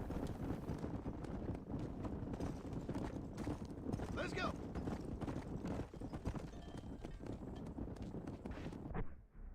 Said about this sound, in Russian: копыт топот.